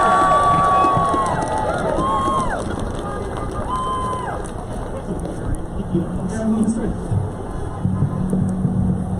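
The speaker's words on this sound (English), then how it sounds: "Let's give him a big round of applause." Rally audience applauding, a dense clapping roar that is loudest at first and slowly thins out across several seconds, with some voices and crowd murmur mixed in.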